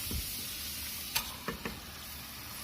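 Chicken stirred into sizzling masala in a pan for a village-style chicken kulambu, a faint steady sizzle broken by a few sharp spoon scrapes and clicks.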